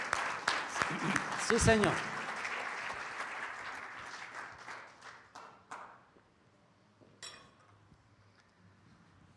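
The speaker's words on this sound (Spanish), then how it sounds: "Dale un aplauso fuerte al Señor." A church congregation bursts into loud, dense applause that thins into scattered claps and dies away, with a voice speaking briefly near the end.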